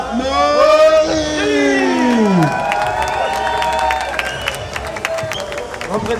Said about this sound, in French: je vous demande un méga giga tonnerre d'applaudissements pour le champion de la Battle League 2019